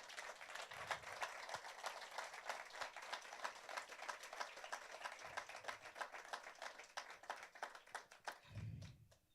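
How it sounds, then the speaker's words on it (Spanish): A church congregation claps during a sermon, a steady, fairly quiet patter of many hands that carries on for several seconds before fading out near the end. "¿Por qué no le das un aplauso al Señor, hermanos?"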